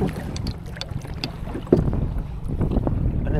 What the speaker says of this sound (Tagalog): Kay gawas niya kusog ang hangin diri